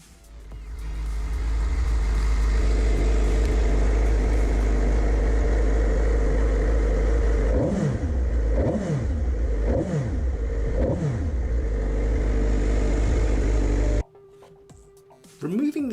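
A Suzuki GSX-R motorcycle fitted with a Scorpion Red Power exhaust idles loudly and close, then gives a quick series of four or five sharp throttle blips before settling back to a steady rumble.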